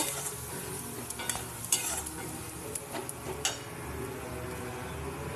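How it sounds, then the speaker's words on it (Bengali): Onion and spice paste, with coriander, chilli powder, salt and turmeric, stirred and fried in a pan, giving a steady close sizzle broken by scraping stirs and occasional sharp spoon knocks against the pan, with no talking. "পেঁয়াজ আর এই মশলাটা নেড়ে নেব ভালো করে কষিয়ে নেব"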